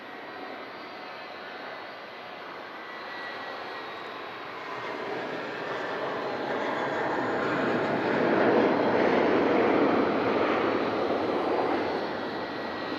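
At Manchester Airport's Runway Visitor Park, the airliner G-LSAC taxis past with a steady jet engine roar. The roar swells as it draws nearer and then eases slightly, with no talk heard.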